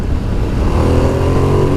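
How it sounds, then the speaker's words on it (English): A 2016 Ducati XDiavel S motorcycle engine revs up close, a loud, steady throaty roar that rises slightly in pitch. "Sitting next to it, revving it up, now it sounds loud then."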